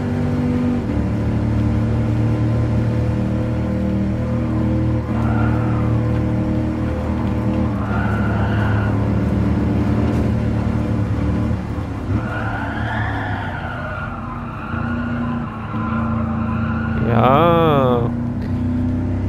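A car in Gran Turismo Sport drives with a steady droning engine tone that rises and falls through the run, with a wavering tyre skid squeal near the end. Someone talks over it throughout.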